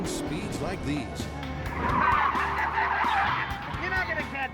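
A chase car tears through city streets at high speed, its engine roaring steadily while tires squeal and skid in a sustained screech that swells in the middle. Someone narrates over the action throughout.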